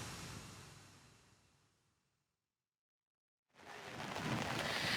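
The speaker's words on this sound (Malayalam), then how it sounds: "അതിശക്തമായ മഴ, അതായത് ഇടതടവില്ലാതെ മഴ ഇപ്പോഴും തുടരുകയാണ്" Heavy rain at Kozhikode harbour as a dense, steady roaring hiss that fades, drops to near silence for about a second, then returns at full strength, with no voices.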